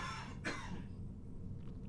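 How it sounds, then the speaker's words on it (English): A sports commentator gives a single short cough, close to the microphone, over a low steady background hum during a StarCraft match broadcast. "I'm going to apparently cough today."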